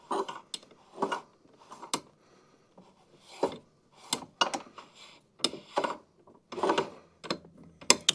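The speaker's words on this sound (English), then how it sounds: "The only thing you're hearing is just the belt rubbing, and the belt is free if you look all the way around." A Toro Super Recycler mower's drive belt rubs as the pulley spins freely by hand, giving irregular dry scraping and rubbing bursts with short quiet gaps, close up.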